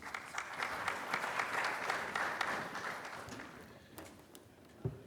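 Audience at an AWS conference session on coalition interoperability and security applauds to welcome the speakers, a steady wash of clapping from a moderate-sized crowd in a hall that tapers off near the end.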